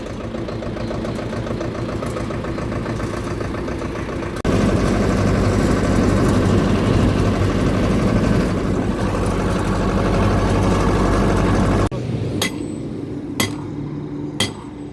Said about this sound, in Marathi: आपल्या ट्रॅक्टरचा टायर पंक्चर झालेला आहे. आपण त्याला धडी लावून चाललेलं आहे आता घरी.